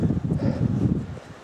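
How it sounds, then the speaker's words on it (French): Strong gusting wind buffets the microphone on an exposed Jura mountain ridge near the Crêt de la Neige, a loud rumbling rush that swells and dips briefly before easing, with no voices. "il y a vraiment un vent d'enfer aujourd'hui"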